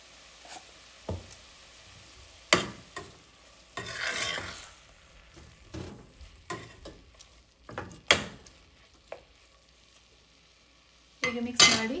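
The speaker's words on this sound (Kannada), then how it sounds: "ಹೀಗೆ ಮಿಕ್ಸ್ ಮಾಡಿ" Clams tossed with salt in a pan for Mangalorean marwai sukka make sharp, irregular scraping and rattling bursts as a spoon stirs them, with short pauses and a soft sizzle between strokes.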